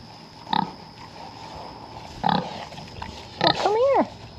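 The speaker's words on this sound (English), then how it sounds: "Or maybe you're raising pigs." Pigs on a farm give several short grunts spaced about a second or more apart, then a longer rising squeal near the end, close by, over a faint background hum.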